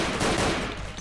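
Gunfire in the Garry's Mod DarkRP video game, a dense burst of rapid shots crowding the whole second at steady loudness, no talk over it.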